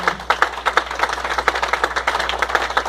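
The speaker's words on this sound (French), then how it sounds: "we're going to clap for the Lord" Church congregation clapping for the Lord, a fast, rhythmic run of sharp hand claps close by, keeping a steady beat with little talk underneath.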